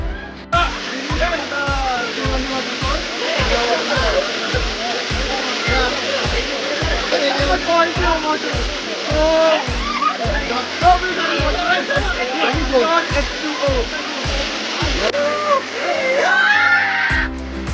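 Siruvani Falls, a waterfall in Tamil Nadu, pours in a steady broadband roar that fills the whole stretch, with people talking over the rushing water.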